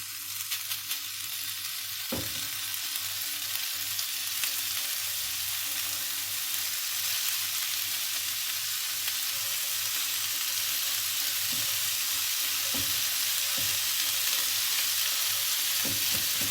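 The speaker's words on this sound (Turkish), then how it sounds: "Döküm tavamızı iyice ısıttıktan sonra hazırlamış olduğumuz şişlerimizi tavamıza" Steady, dense sizzling of meat skewers frying in a hot cast iron pan, continuous and close, with a few soft clinks and knocks partway through.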